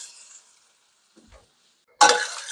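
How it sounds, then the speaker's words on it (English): Kopytka, Polish potato dumplings, land in melted butter and set off a sudden, bright sizzle after a near-silent pause, with a few faint clinks before it. "Just before they're all melted, we're going to add in our KOPYTKA"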